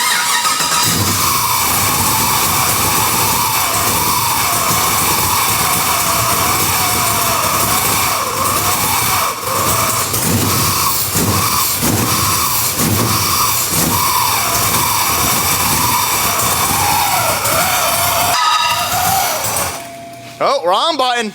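A car engine runs steadily after the crank sensor wires are swapped, idling with a droning hum and small rev changes for about twenty seconds before cutting off near the end, with speech over it.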